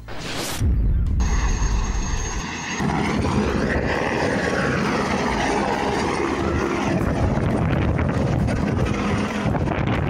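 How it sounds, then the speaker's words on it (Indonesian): A helicopter in flight, a loud steady rotor and engine roar that starts abruptly after a brief burst and continues with wind buffeting, close to the microphone. "Dengan gagah, Raffi naik helikopter agar dapat mencapai lokasi tepat waktu."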